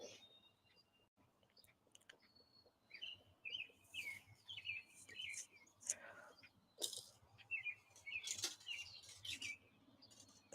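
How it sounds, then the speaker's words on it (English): Small birds chirp and trill outdoors in repeated short bursts, fairly faint and at a moderate distance, mixed with soft rustling and handling noise close by. "I'm outside and the birds are chirping."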